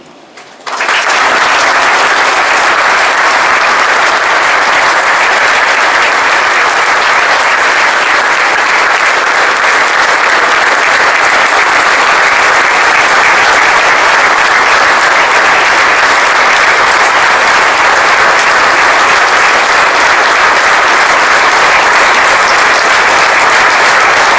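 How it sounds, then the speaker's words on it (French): Loud, sustained applause from a large audience at a New Year's greetings ceremony in Evry saluting the police, starting abruptly and holding as an unbroken roar of clapping throughout. "Je crois que nous devons le faire par des applaudissements aujourd'hui."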